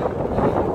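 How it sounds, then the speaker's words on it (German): Wind buffets the microphone of a cyclist riding uphill through the Taunus hills, a steady, dense, low rumbling roar that fills the whole short moment with no voice over it. "Der Wind hat mir noch ein bisschen entgegengeblasen."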